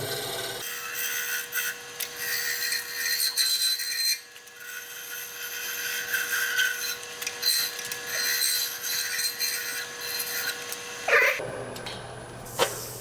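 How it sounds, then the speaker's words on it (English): A scraper tool takes a shear-scraping cut on a wooden bowl spinning on a wood lathe, making a continuous rough rasping scrape with a steady underlying hum. The scraping breaks off briefly partway through and stops near the end. "Now that scraping cut is very marginal quality."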